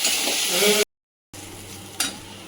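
Food fries in a pan on a hot day while being stirred, making a close sizzle with scraping. After a brief silent dropout, a softer sizzle returns with a single utensil clack.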